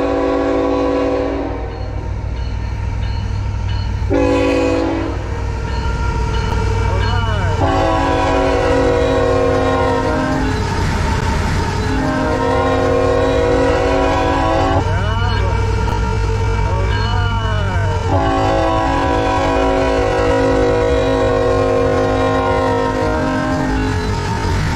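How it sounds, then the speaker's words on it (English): A train locomotive passes close, sounding repeated long, loud horn blasts over a heavy rolling rumble, with a voice talking in places. "Here comes the train, the locomotive."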